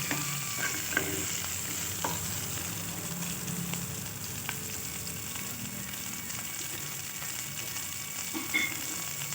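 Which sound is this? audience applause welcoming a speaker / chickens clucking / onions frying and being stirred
onions frying and being stirred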